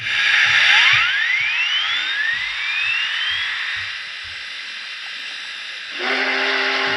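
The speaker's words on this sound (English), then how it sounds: "Just a familiar whistle there." A model steam whistle on an MTH O-scale model train blows with rising pitch over a constant hiss, then a low mechanical hum of the motor starts near the end.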